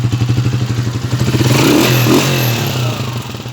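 A repaired motorcycle engine idles and then revs, heard close and loud, with a rapid pulsing putter that swells into a smoother roar before easing back. No one speaks.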